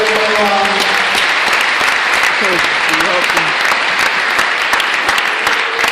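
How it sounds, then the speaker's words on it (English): Loud, sustained audience applause fills a senior lock-in event, dense clapping throughout with a few voices calling out over it near the start. "Let's give them all a big round of applause"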